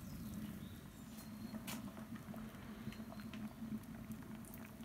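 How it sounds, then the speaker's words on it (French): Beer wort boils at a steady rolling boil in a brewing pot, a faint continuous bubbling and popping patter with occasional louder splats, heard alone. "On a une bonne ébullition"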